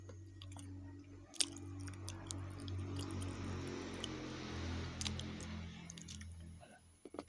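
Close, quiet crunching and chewing of a hexagon-shaped sweet grilled corn flavored Oops snack, soft crackly bites over a low steady hum with a few sharp clicks.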